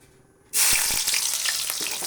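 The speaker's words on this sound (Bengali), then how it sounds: "এখন পেঁয়াজ ভেজে নেব" A sudden loud sizzle of onions hitting hot oil in a wok, then steady crackling frying close by, with no voices.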